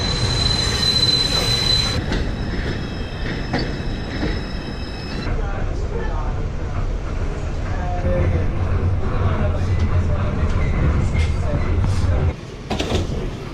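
A Manhattan-bound 5 local subway train in the Bronx runs loudly nearby, its wheels squealing and screeching over a deep rumble and clatter on the rails.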